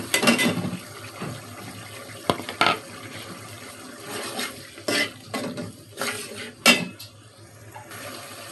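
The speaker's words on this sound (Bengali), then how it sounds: "এখন চিংড়ি মাছগুলি দিয়ে দিব আমি, দেশি চিংড়ি" Native shrimp get stirred into a pan of bottle gourd and tomato, with a few scrapes and clatters of a utensil against the pan over a soft, wet cooking hiss, up close.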